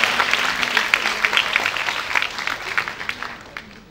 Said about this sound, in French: Acclamation, s'il vous plaît.